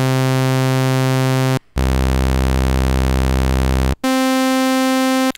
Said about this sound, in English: But this is the sound of your sawtooth.